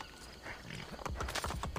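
A white horse in the Assassin's Creed Brotherhood video game comes closer with a string of hollow hoof clops that grow louder toward the end, with a short whinny mixed in over a soft ambient game backdrop.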